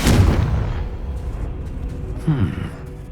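A Confringo explosive spell goes off in Hogwarts Legacy gameplay on PS5 with a booming blast at the start that fades out, then a second, smaller burst follows shortly after.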